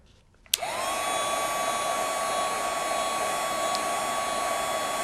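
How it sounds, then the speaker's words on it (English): A heat embossing tool switches on with a sharp click and settles into a loud, steady whir of blowing hot air, held close and constant to the end. "once you hit it with the heat tool"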